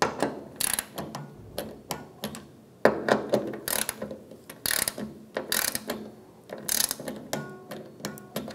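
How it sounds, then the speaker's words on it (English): Close ratchet clicks from a torque wrench tightening the fuel pump bolts on a 1996-2002 Toyota 4Runner, arriving in short bursts with small gaps between strokes and no talking. "Now we'll torque these to 31 inch-pounds."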